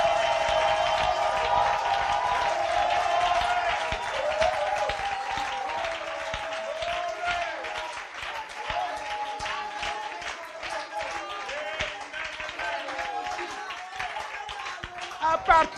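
Church congregation clapping and acclaiming during a French-language sermon, dense rhythmic clapping under crowd voices and singing, steady throughout with a sharper burst at the very end.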